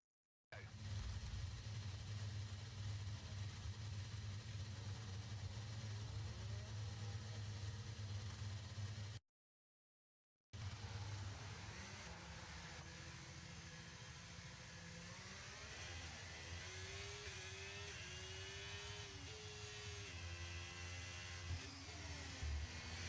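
A Formula 1 racing car in an F1 video game career mode idles with a steady droning engine, then blips and revs through rising and falling pitch sweeps. The sound is continuous and close, broken by a short silent gap, with no talk.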